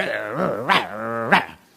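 A voice imitates a dog, producing a few growling, barking bursts with rising and falling tone, close and loud, in a Spanish-language sermon setting.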